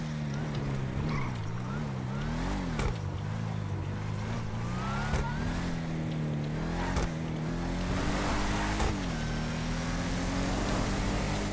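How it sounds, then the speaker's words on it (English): A luxury supercar engine in GTA 5 drones steadily, its pitch rising and falling with throttle and gear changes, a continuous moderate engine tone with occasional sharp clicks. "So this car is also having a pretty good sound, guys, as you guys can hear."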